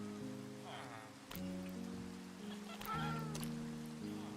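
A cat in a video game gives a couple of short meows over looping background music and a pattering rain-like ambience.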